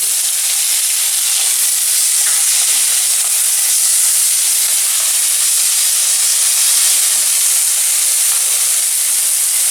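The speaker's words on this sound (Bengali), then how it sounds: "কুচিয়ে রাখা টমেটো এবার আমি দিয়ে দিচ্ছি।" Chopped tomatoes dropped into a hot, spiced masala pan while cooking a fish dish, giving a loud, continuous sizzling hiss that stays strong and even throughout, without speech.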